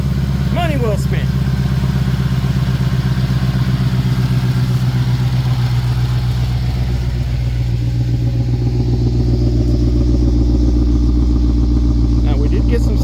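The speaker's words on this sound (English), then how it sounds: "Motor seems to be super quiet." A 2022 Shelby GT500 engine runs close by, a loud steady idle with a deep throbbing rumble and faint mechanical clatter throughout.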